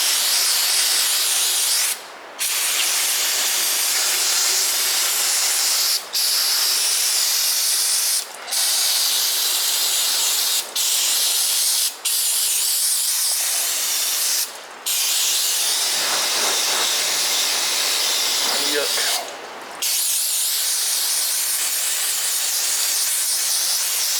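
Loud, continuous hiss of cleaner sprayed onto a car's rear differential, in long bursts broken by brief pauses, close up.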